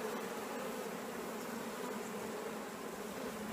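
A continuous low buzz of honey bees fills an opened hive during comb removal, an even, faint drone with no voices.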